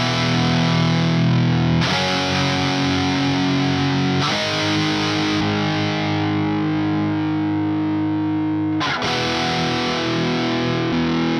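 Heavily distorted electric guitar chords through Bare Knuckle pickups chug loud and sustained, with brief changes between held chords and a thick, saturated tone throughout, no voices.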